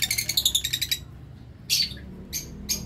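Lutino lovebirds chirp nearby in quick, high, shrill bursts: a rapid run of tweets, then a pause, then a few shorter calls.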